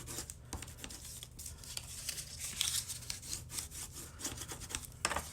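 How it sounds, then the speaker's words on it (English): Paper score lines on a card-making project are burnished with a tool, a series of quiet rubbing and scraping strokes in an irregular rhythm, close by. "we're going to burnish all those score lines"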